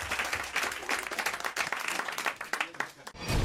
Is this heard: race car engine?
no